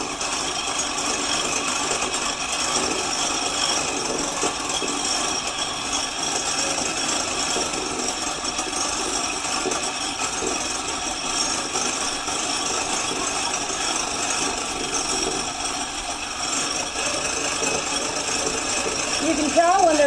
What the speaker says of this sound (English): Now we're going to whisk the egg whites until they're stiff.